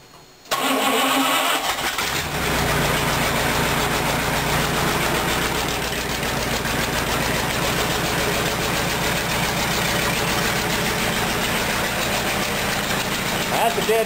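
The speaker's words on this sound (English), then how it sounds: "That's a dead cold start, and she's starting real good." A ratrod engine cranks from dead cold, catches and settles into a loud, steady, slightly uneven idle that runs on close by, with a voice partly heard over it.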